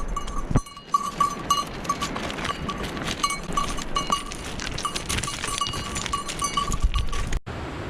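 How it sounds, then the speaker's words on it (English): Valais sheep graze on a Swiss mountainside along a hiking trail, with bell-like clinks repeating over steady outdoor wind noise and a brief bump early on. "there's a whole bunch of fluffy sheep, the Valais sheep up here"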